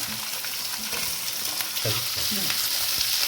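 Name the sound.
onion, chili and garlic cloves frying in a pan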